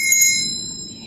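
A small metal hand bell shaped like a Freemason emblem rings once, bright and close, with a sustained shimmering tone that fades slowly over about a second.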